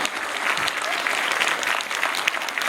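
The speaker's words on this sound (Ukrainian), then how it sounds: "Можливо, Наталя, ваші оплески." Steady applause from an audience at a live charity concert, a dense, even wash of clapping that continues for a few seconds without a break.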